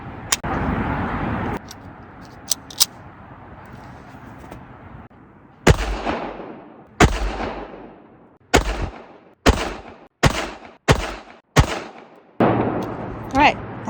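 A Smith & Wesson Bodyguard 2 pistol is fired at an outdoor range, a string of sharp, loud, close reports with short echoing decays, spaced irregularly and then in quicker succession, with some background noise between shots.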